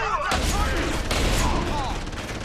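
Bursts of gunfire in the video game Deus Ex: Human Revolution, a loud sustained fusillade of shots over about two seconds mixed with game voices and effects.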